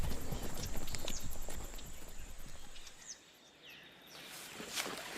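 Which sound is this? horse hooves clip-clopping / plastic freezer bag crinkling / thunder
horse hooves clip-clopping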